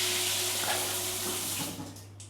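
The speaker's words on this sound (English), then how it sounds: "And then your handheld, yeah, there's plenty of pressure there, so that's nice, and it's not splashing everywhere either." A handheld shower in a Jomtien hotel bathroom runs with strong pressure, giving a steady, close broadband hiss of spraying water that tapers off near the end, with no talk over it.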